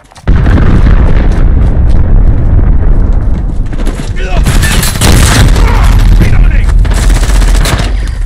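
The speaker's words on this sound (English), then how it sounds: "Allied cruise missile launched." Heavy blasts and rolling gunfire from a cruise missile strike in the Modern Warfare video game, loud and continuous, with booming impacts and crackling bursts layered throughout and a brief quieter dip near the middle.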